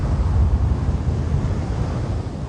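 Spaceship engines firing vertical thrust in the video game The Invincible: a steady, deep rumbling roar with a dense low-end drone that holds evenly throughout, no voices over it.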